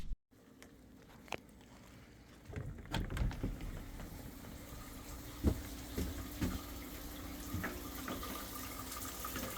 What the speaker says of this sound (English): We got hot water.